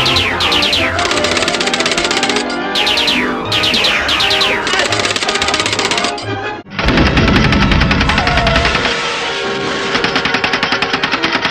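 Continuous heavy gunfire from an animated Transformers fan film, loud rapid automatic bursts mixed with laser-like zaps and a crashing impact midway, dense and relentless throughout with no talking.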